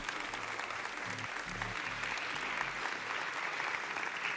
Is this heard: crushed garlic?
no